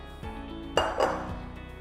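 A glass bowl clinks and knocks on a kitchen counter during malai kofta preparation, giving a few close, sharp contacts with brief ringing under a quiet room background.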